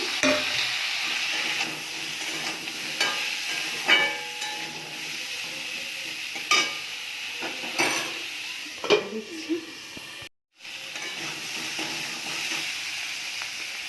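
Pumpkin pieces added to bitter gourd frying in a pan, a continuous sizzle broken by repeated metallic spatula clanks and scrapes against the pan, close and fairly loud, with a short gap near the end.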